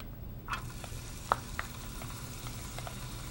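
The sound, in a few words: onions frying in pan for corned beef sauce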